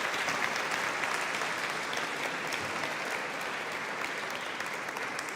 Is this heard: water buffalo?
no